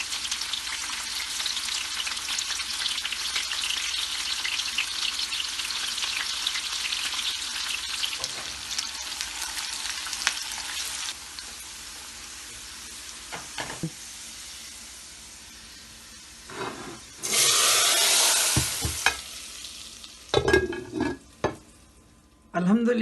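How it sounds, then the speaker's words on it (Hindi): Onions and chopped green chili fry in oil for a lentil dal, a steady bright sizzle for about eleven seconds that eases off, then returns in louder bursts of hissing and stirring toward the end. "ये 2 सर्विंग स्पून तेल है। प्याज डालेंगे। 1 हरी मिर्च डालेंगे काट के।"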